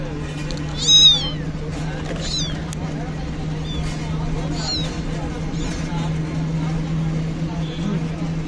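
A seven-day-old kitten meows aboard a KSRTC bus, with a loud cry near the one-second mark and a few softer mews after it, all over a steady engine drone and cabin rumble. People talk in the background.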